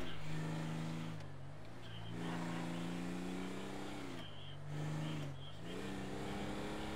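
A car engine in a video game revs and drones steadily, rising and dipping in pitch across several gear-like swells, loud and continuous with no talking over it.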